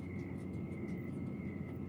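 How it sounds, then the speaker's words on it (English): Several helicopters flying in the night sky over a city, heard as a steady, continuous low rotor rumble with a faint high whine, fairly distant and sustained throughout, with no talking. "What's with all the helicopters?"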